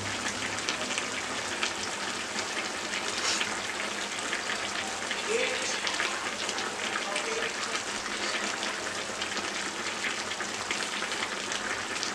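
Chicken curry simmers in a pot as its water cooks off, a steady dense bubbling and spitting hiss that runs unbroken and fairly loud throughout.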